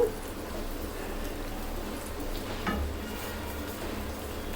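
Buttermilk made from vinegar-soured milk is stirred into a roast frying in a pan, giving a steady soft sizzle with faint scraping from the stirring, fairly quiet throughout.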